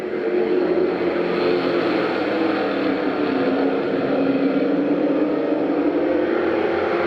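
Stock race cars at Thunder Road Speedbowl run four abreast through turns 3 and 4, a dense engine roar that holds loud and steady for several seconds.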